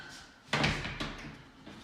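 A six-panel solid core door in a gutted, renovated 150-year-old farmhouse gives a sharp close knock, then a second softer thud half a second later, both nearby over a quiet room.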